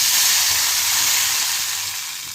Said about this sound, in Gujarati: હવે આપણી વસ્તુ વઘાર તતડી ગયો છે